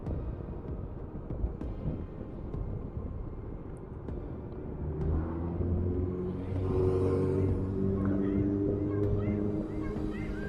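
SYM Cruisym 300 automatic twist-and-go scooter from 2019 riding along, a steady low engine drone with road rumble that swells as it pulls away midway and holds a louder, rising hum toward the end.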